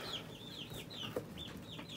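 Backyard chickens cluck and squawk in a fairly close, quiet scene, with several rising calls coming at an uneven pace over a low background hum.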